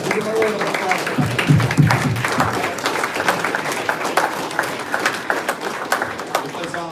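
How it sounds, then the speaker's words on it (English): A meeting audience claps in a sustained, dense round of applause, loud and close, with voices murmuring underneath throughout. "So, give him a round of applause."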